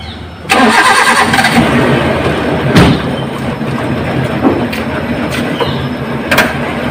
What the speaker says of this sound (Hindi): उसको मैं पहले गाड़ी स्टार्ट कर लेता हूँ